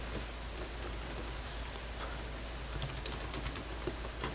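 Soft keystrokes on a computer keyboard while a command is entered at a command prompt, quiet scattered taps that grow busier toward the end under a low steady hum, with no talking.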